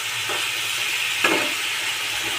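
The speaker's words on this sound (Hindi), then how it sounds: "मिला देते हैं चिकन को" Chicken frying in a pan gives a steady, soft sizzle while a spoon scrapes and stirs through it, with one brief louder scrape partway through.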